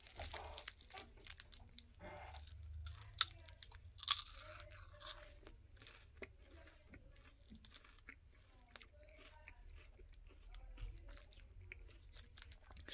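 A crunchy Kinder Bueno White wafer bar is bitten and chewed close up, with sharp crunches at first followed by a long run of quieter, steady crisp chewing and occasional wrapper crinkles.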